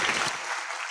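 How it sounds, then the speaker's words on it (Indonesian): Clapping from an audience fills a short moment, steady and fairly close, tapering slightly by the end. "Oke, tepuk tangan ya"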